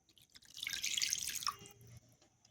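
Water pours into dosa batter in a brief, soft trickle of splashes and drips lasting about a second, faint and close, then fades into quiet kitchen stillness.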